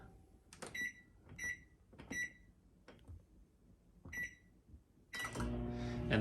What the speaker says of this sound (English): I'm gonna go ahead and throw this in the microwave.